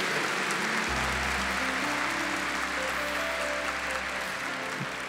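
An audience at a Catholic community gathering applauds softly and evenly, a diffuse clapping wash sitting under a low sustained hum throughout.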